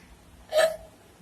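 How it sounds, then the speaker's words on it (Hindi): A single short hiccup comes after drinking half a litre of Sprite. It is a sudden, close, voiced catch against quiet background. "हिचकी भी होती है"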